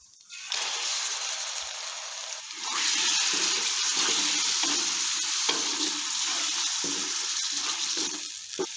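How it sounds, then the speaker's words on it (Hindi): Ginger-garlic paste and chicken fry in a pan, a steady close sizzle that grows louder partway through, with stirring scrapes breaking through it. No one speaks. "और सिर्फ 1 मिनट के लिए हमने इसको अच्छी तरह से भूनना है।"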